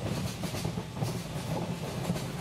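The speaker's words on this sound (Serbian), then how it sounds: "Ovo je sad naš voz," A train running on rails, a steady rumbling roar with a rhythmic clickety-clack of wheels over track joints, continuous and fairly close throughout.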